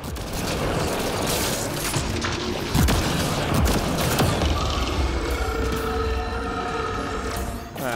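Sustained gunfire from Mass Effect: Andromeda on PS4 crackles in rapid bursts alongside mechanical clanks and booms, loud and dense throughout, with no talking over it.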